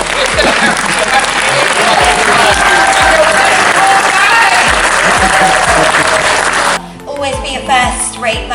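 A film festival audience applauds loudly and steadily for several seconds, a thick wash of overlapping claps, before the clapping cuts off abruptly near the end and a voice begins speaking.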